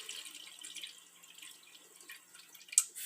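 Water poured into a small pot to cook sushi rice, a light trickling and splashing that runs steadily for a few seconds with a brief louder splash near the end.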